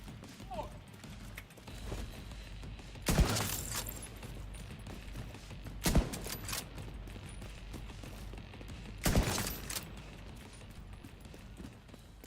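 Three sharp single gunshots in a video game, spaced a few seconds apart over a quiet background, each a brief crisp crack.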